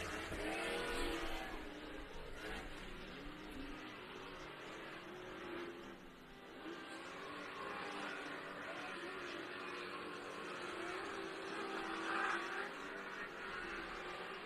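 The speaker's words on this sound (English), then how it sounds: "Beautiful truck there out of Connor Berry, huh?" An off-road race truck engine drones steadily at a distance during a short course off-road racing main event, a continuous whirring roar with slight rises in revs and no clear pass-by.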